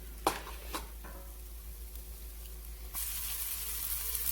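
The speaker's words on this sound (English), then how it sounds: "We got it sizzling." Onions sizzling in olive oil in a pan, a faint hiss with a few sharp clinks early, then a steadier, louder frying crackle near the end.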